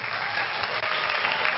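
Canned studio applause track, a steady dense wash of many hands clapping at even loudness throughout, with no voices over it.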